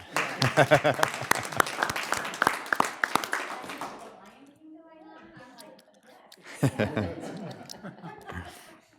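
Clapping and laughter from people at a board meeting after a motion passes, brisk and close for several seconds, then a quiet gap and another burst of claps and chuckles.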